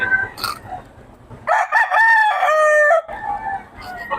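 Rooster crowing at a chicken market in Bocaue: one loud, close crow with a long, tonal call in the middle, with other clucking and crowing birds and market noise before and after.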